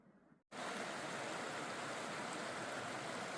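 The Youghiogheny River flowing, heard on a backpacking trip along the Laurel Highlands Hiking Trail: after a brief quiet moment, a loud, steady broadband rush of moving water fills the rest of the clip.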